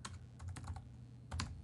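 Fingers tap out a web address on a computer keyboard in quick, uneven bursts of soft clicks, fairly quiet with a pause before a final cluster of keystrokes.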